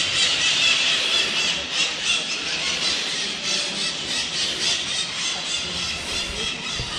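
Shrill squeals and squawks from owls and parrots fill a cave interior, a dense, continuous high-pitched chorus with no talking.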